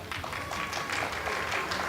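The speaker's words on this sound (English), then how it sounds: "I want you guys to put a really big, warm round of applause because Prabhuji really deserves it" Warm, steady applause from an evening audience at a Sri Rama Katha gathering, many hands clapping in a dense, fairly close wash for the full two seconds.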